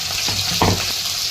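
Onion and a bay leaf frying in hot oil in a pan, a steady close sizzle with a brief louder burst as the onion goes in, no talking.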